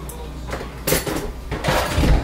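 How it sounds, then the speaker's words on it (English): Dishes clink and knock together as a small container is pulled out of a home dishwasher, with a few close, bright clatters and rattles. "I'm going to grab my little container that I want for the white. I know I have it in my dishwasher."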